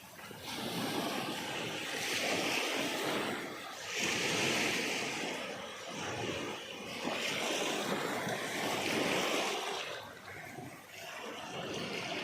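Sea waves at Tali Beach in Nasugbu, Batangas, rolling in with repeated swelling surges of surf every few seconds, a steady washing hiss under light wind noise, with no voices.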